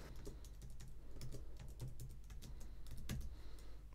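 Keys clatter on a computer keyboard as a campaign name is typed into email marketing software, a quick irregular run of light clicks at a moderate, close level with no talking.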